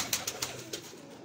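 Several short pigeon coos repeat in a quick, evenly spaced series, fairly close and clear, fading toward the end with no talking over them.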